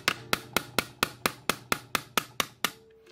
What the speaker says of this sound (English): And then from there, you can just hammer it in.